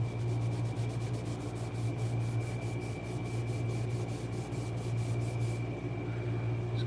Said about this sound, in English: Just cleaning that stone up